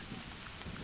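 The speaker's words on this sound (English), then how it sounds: "this thunderstorm is really not going to give me the pleasure of hearing" A thunderstorm in the hunting game theHunter: Primal, a dense, faint hiss of rain with low rumbling underneath, steady across a short moment and with no voices.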